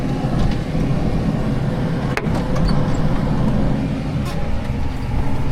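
Tractor towing a wide dung spreader down a farm track in ninth gear, a steady loud engine drone and rumbling chassis rattle throughout, with a brief clunk partway through and no voices.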